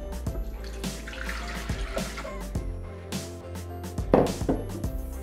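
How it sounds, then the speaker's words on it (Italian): Water pours into the mixing bowl of a Thermomix (Bimby) kitchen machine for bread dough, a steady splashing stream with clinks, close and alone for several seconds. "Mettiamo nel boccale l'acqua."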